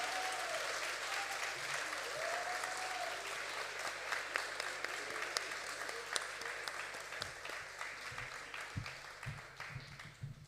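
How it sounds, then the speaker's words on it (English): Audience applause at a school performance poetry event, a sustained wash of many hands clapping that fills the hall and slowly thins toward the end, with faint background murmur. "please stand up and give them a loud overhead clap"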